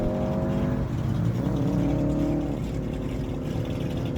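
A 2012 Subaru races down a no-prep drag strip, its engine a loud, steady roar held close throughout, with a rising harmonic whine as the car pulls hard and a second engine droning underneath.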